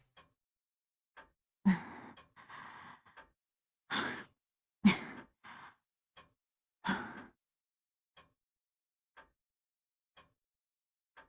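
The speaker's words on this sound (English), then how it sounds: "My ragged breathing starts to calm down." Ragged, uneven breaths from a character in the video game Fate/Hollow Ataraxia: several heavy gasping exhalations in a loose, irregular rhythm, close and fairly loud, separated by quiet pauses with faint ticks.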